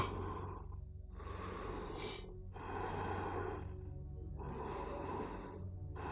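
Heavy masked breathing of Michael Myers in a Halloween video game, slow rhythmic inhales and exhales, four or five breaths in a steady cycle over a low hum, close and fairly quiet, with no speech.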